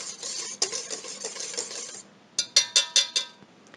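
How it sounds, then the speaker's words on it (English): A utensil stirs doughnut ingredients in a bowl, giving a run of quick scraping, clinking strokes, then a short pause and several sharper, louder knocks against the bowl's side. "Mix that around."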